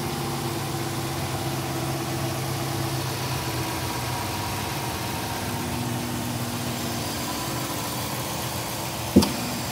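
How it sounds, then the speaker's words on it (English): The 5.7 liter engine of a 2015 Jeep Grand Cherokee Summit idles with a steady, smooth low rumble and faint ticking, heard up close under the open hood, with a brief knock near the end. "Smooth running engine."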